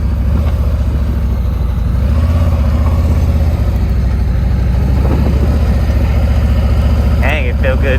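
A Harley motorcycle engine running during a ride, a loud steady low rumble with wind noise throughout, a voice talking over it briefly near the end.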